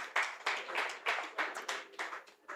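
An audience claps for a conference co-convener, a brisk, close round of many hands in dense bursts that rise and fall without pause and carry no voices.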